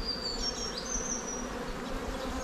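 Honey bees in a hive that is low on honey with a little nectar coming in, giving a steady, dense buzzing hum close up with no breaks.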